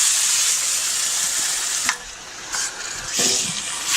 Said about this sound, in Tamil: இப்போ அடுத்தது நம்ம சிக்கனை சேர்க்கலாம்